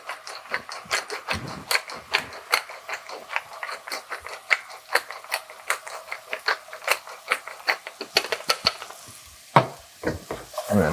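Carrots sizzle in an oiled skillet with salt and pepper while being tossed, giving a steady fry hiss broken by quick, repeated scraping and clattering strikes close by, with a brief pause near the end.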